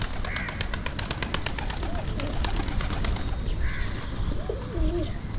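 Pigeons coo softly in a steady, low rumble while they feed, with occasional chirps and faint wing flutters over continuous outdoor background noise.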